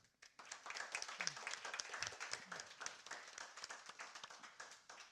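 Soft, distant applause from an audience thanking a discussion panel on political corruption in the EU, dense and steady clapping for several seconds with no talking over it.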